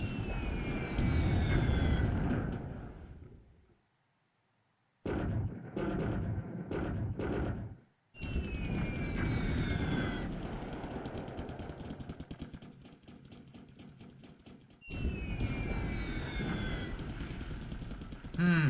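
Bomber aircraft engines in the War in the Pacific strategy game, a droning propeller hum rising and falling in several passes with short silent gaps, at moderate volume.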